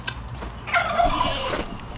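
Guinea fowl on a rabbit and chicken homestead give a harsh, rattling call, one brief burst of chattering cries at close range with no talking.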